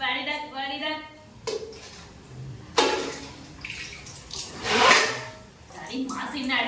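Water is splashed and poured during family Holi play, coming in a few short gushing bursts between stretches of talking voices.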